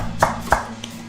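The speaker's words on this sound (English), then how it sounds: "Good way to dice your onions." Two crisp knife chops on a cutting board cut through onions while dicing, evenly spaced and close, followed by a fainter tap.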